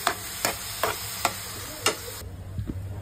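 A spoon scrapes and stirs onions in a pan for prawn masala, with about six distinct strokes at a steady rhythm over a light sizzle. The stirring stops near the end, leaving soft frying.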